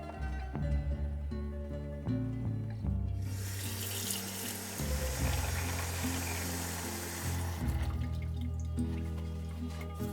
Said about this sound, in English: Water them twice a day, once in the morning and once in the evening.